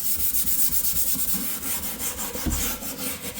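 Grease being scrubbed off a glossy kitchen surface, a close, rhythmic rubbing and scouring with quick repeated back-and-forth strokes at a fairly even pace, heard alone without speech.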